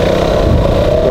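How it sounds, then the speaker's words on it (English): A motorcycle engine runs steadily while riding, a loud, close, continuous droning rumble with wind noise throughout. "I hope my voice is not drowned by this engine of my motorcycle"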